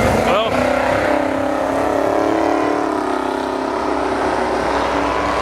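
A drag racing car on the strip, its engine droning steadily and loud throughout while a person talks over it.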